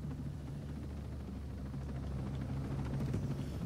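Steady video game helicopter rotor drone in Ghost Recon Breakpoint with a pulsing low thrum and engine whine, continuous and fairly close, with no talking.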